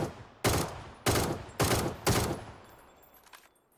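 Gunfire in the game PUBG: four loud evenly spaced shots about half a second apart, each with a sharp crack and a decaying tail, then fading quiet.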